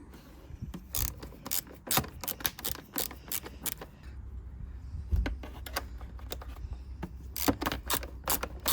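Ratchet wrench tightening a lock nut on the chain guard of a 2025 Honda NC750X motorcycle, with close, sharp clicking strokes in irregular bursts over a low background hum.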